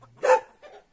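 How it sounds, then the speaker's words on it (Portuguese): A single short dog bark, sharp and close, followed by a fainter trailing yip, all within about a second. "O cachorro."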